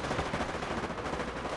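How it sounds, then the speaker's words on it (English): Artillery barrage in a 3v3 World War II strategy game village siege battle, a dense, continuous rumble of overlapping blasts and crackling gunfire at steady loudness throughout, with no voices. "Here comes the artillery again."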